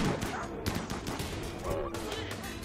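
Rapid gunfire in the video game Rimworld, a dense, continuous crackle of overlapping shots running throughout at steady loudness, with a voice talking faintly underneath.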